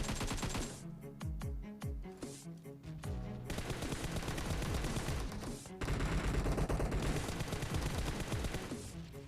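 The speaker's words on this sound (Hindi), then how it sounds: "इस पे मैं काफ़ी फायर देता हूँ।" Rapid bursts of automatic gunfire from the mobile battle royale game PUBG Mobile, loud and dense, rattling in long strings with brief pauses between volleys and no clear speech.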